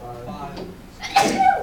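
A voice says a short word, then a sharp, breathy sneeze bursts out close by near the end.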